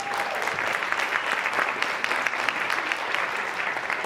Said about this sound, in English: It's always good to see my son clapping for me.